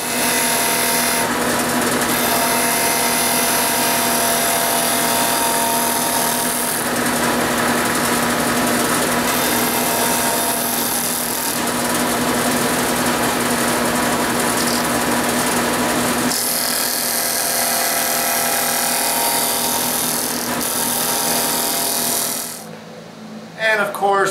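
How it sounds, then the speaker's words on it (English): Power sander grinding against wood, rounding off the back end of a pair of wooden toast tongs; loud and steady, running continuously for most of the clip before cutting off near the end. "I'm going to take it over to the disc sander, and I'm just going to round off this back section right here"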